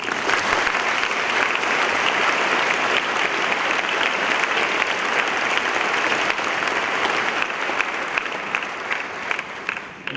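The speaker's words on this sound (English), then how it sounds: "Please give them a round of applause." A convocation audience at the University of Toronto breaks into sustained applause, a dense, even wash of clapping from a large crowd that holds steady for about ten seconds before thinning slightly at the end.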